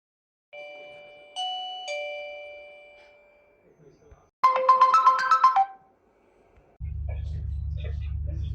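An ANNKE Whiffle battery video doorbell alert on a smartphone: several bright electronic chime tones, then a busier burst of ringing notes, followed by a low steady hum.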